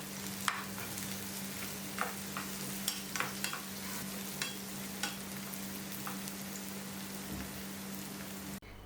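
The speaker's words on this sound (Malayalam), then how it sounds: "ഈ ഉള്ളി നമുക്കിനി നെയ്യിലേക്ക് ചേർക്കാം" Thinly sliced shallots fry in ghee, a soft continuous crackling sizzle dotted with small pops and spatters, heard close over a low steady hum with no one speaking.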